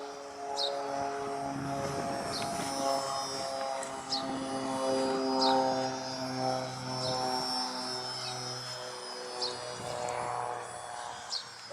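A Volantex Trainstar Mini RC plane flies overhead at roughly half throttle, a steady electric motor drone with shifting tonal harmonics that rises and fades slightly as it passes, continuous throughout with no talking.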